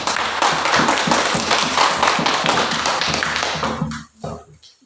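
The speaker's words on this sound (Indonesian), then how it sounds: "Oke, mari kita tepuk tangan untuk kelompok 2" A classroom of students claps for a group after its presentation, close and lively hand claps in a loose rhythm that build briefly and then stop abruptly, leaving a few scattered last claps.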